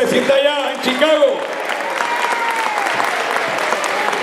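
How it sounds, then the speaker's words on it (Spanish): A crowd in Orocovis, Puerto Rico claps loudly and continuously while a voice speaks over the applause at first, then the clapping carries on alone. "Albert Cruz, Luis Vázquez, fuerte aplauso, que se sienta allá en Chicago."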